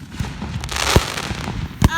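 Fireworks burst during a nighttime fireworks show, with a couple of sharp explosive booms standing out over a continuous background of crackle and crowd murmur.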